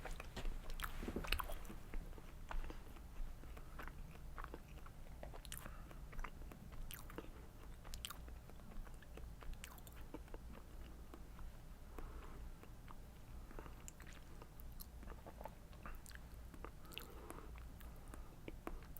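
Someone chews food with soft, close crunching and squishy bites that repeat irregularly over a quiet background.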